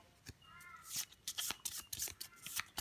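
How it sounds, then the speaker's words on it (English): A deck of cards from Frostpunk: The Board Game being shuffled by hand, close by, with a run of quick papery riffles and slaps over about three seconds. "These ones, we give a bit of a shuffle up."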